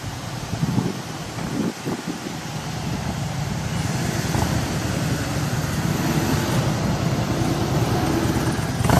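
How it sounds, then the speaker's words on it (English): A car rolls by on a city street near a busy intersection under gusty wind noise, its steady road roar swelling toward the end. "wait for this car to pass"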